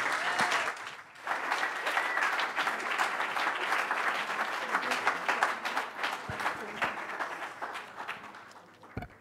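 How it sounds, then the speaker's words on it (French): Applause at a French political meeting, a dense crowd clapping loudly and continuously with a few cheers mixed in, fading slightly near the end. "On applaudit bien fort Lucas Fournier."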